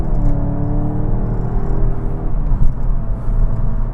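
Skoda Octavia vRS Mk 4.5 accelerating hard uphill, a loud steady engine roar and road rumble from inside the car with rising harmonics that fade into a dense drone.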